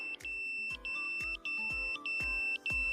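An electronic alarm gives five sharp, high-pitched beeps at a steady pace of roughly one every half second. It sounds close and clear against a quiet background.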